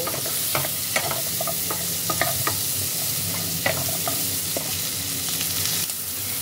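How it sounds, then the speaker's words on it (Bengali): Chopped capsicum frying in melted butter in a wok gives a steady, close sizzle, broken by sharp scraping clicks as the pieces are stirred; no one speaks. "ক্যাপসিকাম কুচিগুলোকে বাটারের মধ্যে একটু ফ্রাই করে নেব।"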